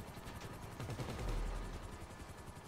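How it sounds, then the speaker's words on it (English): Gunfire and a helicopter in the GTA V video game, heard as a faint, distant mix of rapid popping shots over a low rotor rumble, with a deeper thud swelling briefly in the middle. "I shot the pilot out of the helicopter"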